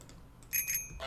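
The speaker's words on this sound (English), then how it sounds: "Oh, I can ding the little bell." A bicycle bell dings in Untitled Goose Game, two quick bright rings followed by a third, clear and moderately loud over a faint game background with no talk.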